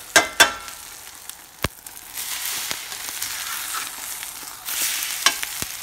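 Potatoes and eggs frying in a pan with vinegar peppers, a steady close sizzle and crackle with a few sharp knocks early on and a louder hiss swelling near the end.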